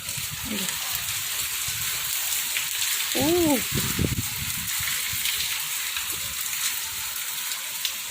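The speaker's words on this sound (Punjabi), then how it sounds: "ਬਾਰਿਸ਼ ਦੇਖੋ ਹੋ ਰਹੀ ਆ" Rain patters steadily in the background while a person talks briefly over it.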